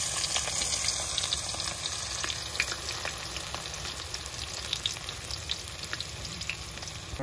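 Cardamom, onion and garlic sizzle steadily in hot oil at an outdoor cooking spot in the Sundarbans forest, a dense continuous crackle with small pops throughout and no talking.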